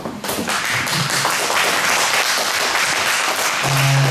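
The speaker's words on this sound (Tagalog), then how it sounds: "Salamat sa mga palakpak mo para sa Lord" Loud, dense applause from a church congregation at a Filipino Christian fellowship gathering, continuous clapping throughout with a brief tonal hum near the end.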